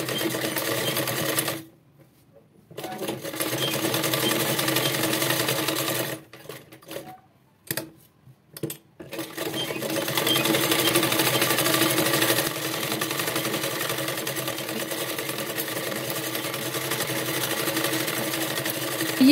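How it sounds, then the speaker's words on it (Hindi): Sewing machine stitching the back neck of a blouse, a loud steady rapid whir running continuously with two short pauses partway through. "अभी जैसा जैसा शेप है वैसे हम इसकी सिलाई करेंगे"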